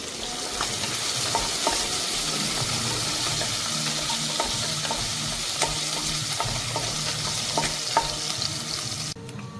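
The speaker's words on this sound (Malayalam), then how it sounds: "ചൂടായി കഴിയുമ്പോൾ അതിലേക്ക് അരിഞ്ഞ് വെച്ചിരിക്കുന്ന വെളുത്തുള്ളി, ഇഞ്ചി, ഗ്രാമ്പൂ, ഏലക്ക എല്ലാം കൂടെ ചേർത്ത് കൊടുക്കുക. എന്നിട്ട് നന്നായിട്ട് ഒന്ന് ഇളക്കി കൊടുക്കുക." Chopped garlic, ginger, cloves and cardamom sizzling in a hot pan, stirred with a spoon that scrapes and taps now and then, a steady close frying hiss with no voices.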